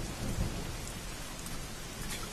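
Steady rain pours down in an anime scene in the hidden rain village, a dense continuous hiss with a soft low rumble, even and close, with no voices.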